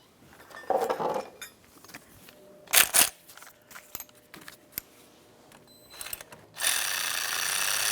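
Metallic clicks and ratcheting scrapes come from a hose clamp being tightened at the throttle body of a 2002-2005 Ford Explorer. The bursts are intermittent and close, followed by a steady, louder whirring rush at the end.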